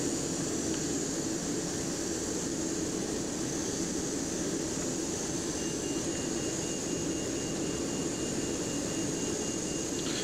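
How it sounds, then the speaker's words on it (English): Airbus A320 jet engines in the X-Plane 11 flight simulator run as a steady, loud broadband roar with a high whine, holding constant throughout with no talk. "Then we can start up both engines."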